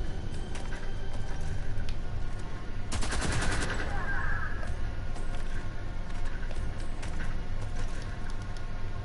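Machine gun fire from an LMG in the video game Homefront: The Revolution, a dense burst of rapid automatic shots around three to four seconds in, set against a steady noisy game background.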